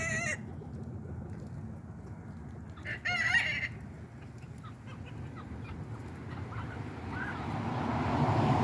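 Backyard roosters cluck and crow nearby amid a scuffle with a drake, with a loud crowing burst partway through and steady background clucking.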